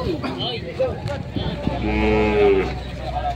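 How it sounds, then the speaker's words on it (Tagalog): Water buffalo from Bicol lowing loudly as they come down off a truck at a livestock auction market in Quezon, several drawn-out moos over a busy crowd with people talking nearby. "Kung nagbababa na ng mga kalabaw na galing Bicol."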